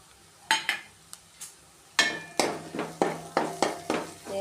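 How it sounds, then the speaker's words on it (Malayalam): A utensil stirs and scrapes crushed masala and coriander powder as it roasts in a pan for green egg roast, making a series of close clinks and scrapes in an uneven rhythm. "ഇനി നന്നായിട്ടൊന്ന് ഇളക്കി മൂപ്പിക്കാൻ നോക്കാം"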